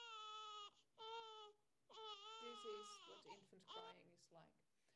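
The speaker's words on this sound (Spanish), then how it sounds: "Así es como suena el llanto de un lactante." Recorded infant cry played in a parenting study: strained, wailing bursts that come in repeated rising sobs, close and loud, with pauses between them.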